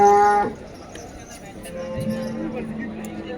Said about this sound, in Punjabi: ਮੰਡੀ ਆ ਮੱਝਾਂ ਗਾਵਾਂ ਫੁੱਲ ਪਹੁੰਚੀਆਂ ਹੋਈਆਂ